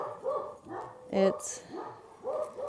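Several loud barks from dogs near a garden plot, coming in a rhythmic run with a sharp yip in the middle, while a person speaks briefly over them.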